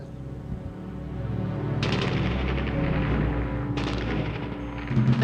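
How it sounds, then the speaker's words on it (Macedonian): Bursts of automatic gunfire in wartime Tetovo crack out over a steady rumbling background, with two sharp onsets that sustain into rattling volleys, fairly loud and without talk. "Рафални истрели го пробиваа просторот."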